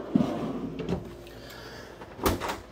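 A pull-out drawer in a 2024 Surveyor Legend 202RBLE travel trailer slides open with a soft rolling thump near the start and a sharper knock near the end, close and fairly quiet against a faint room hum.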